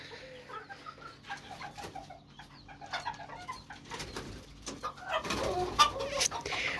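Chicks and chickens in an active coop, with scattered soft clucks, coos and peeping calls, sparse at first and then building into denser, louder flock chatter near the end.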